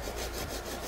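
A hand saw rasps steadily back and forth through a bonsai trunk in quick, even strokes, close and fairly loud.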